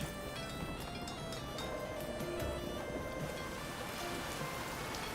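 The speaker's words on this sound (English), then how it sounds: "Yeah, just rain here too." Steady rainfall, a dense continuous patter of drops that stays at an even, moderate level throughout, with no voices over it.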